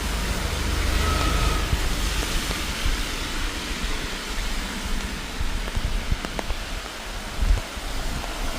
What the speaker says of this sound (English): Since morning is raining.